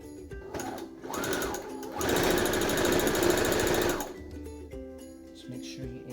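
Sewing machine basting the folded lengthwise edge of a fabric hat brim, stitching in a couple of short runs and then one long steady loud burst of about two seconds, with quieter handling sounds between runs.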